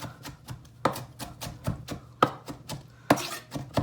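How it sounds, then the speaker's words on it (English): A knife dicing and mincing vegetables for pico de gallo, rapid sharp chops on a cutting board in an uneven rhythm with a few harder strikes, close and without speech. "I just keep dicing and mincing"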